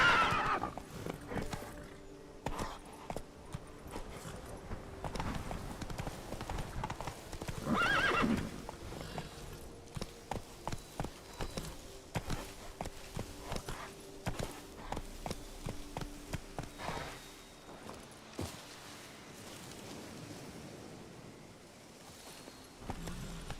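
A horse gallops in the video game Witcher 3: a dense, steady run of rapid hoofbeats with a clear whinny early on, close and loud over faint wind.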